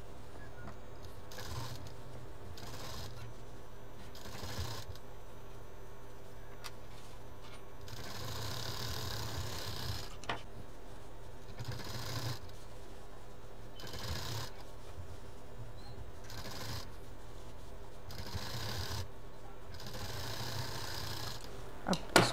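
A sewing machine stitches together the center seams of a new-style side bag or purse, running in repeated short bursts of steady mechanical whirring with brief pauses between, fairly quiet throughout.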